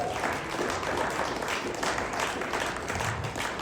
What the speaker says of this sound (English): how about a big round of applause for our senior members.